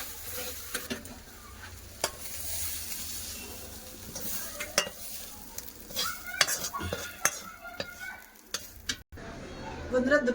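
Beetroot frying in a pan makes a continuous sizzle, with sharp clicks and scrapes of a spoon stirring against the metal. A sudden clatter near the end briefly breaks the frying.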